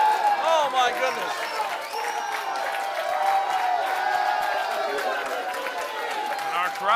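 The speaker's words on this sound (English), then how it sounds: "Crowd appreciating the high-risk offense of Slade" A wrestling crowd cheers and roars after a wrestler's high-risk dive to the outside, a dense sustained wash of voices with scattered whoops and clapping at steady loudness throughout.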